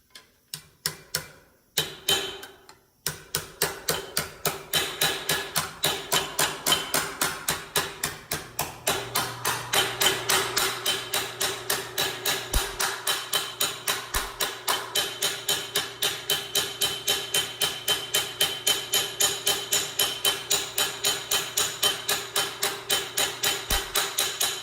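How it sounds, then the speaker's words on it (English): A hammer tipping a sheet metal flange on a compound curve panel: a rapid, steady train of sharp metallic taps, close and loud, after a few slower opening strikes, continuing evenly throughout. "And you wanna run your hammer nice and flat"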